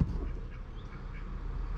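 Ducks quack faintly in the background of a farmyard with other birds around, a low rumble of wind or handling noise underneath.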